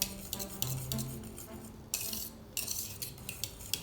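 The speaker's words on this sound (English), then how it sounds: "And then you whisk it some more to get it all integrated." A whisk beating milk tart custard with vanilla and butter in a bowl, close rhythmic metallic clinks and scrapes in quick bursts, with a brief louder swish in the middle.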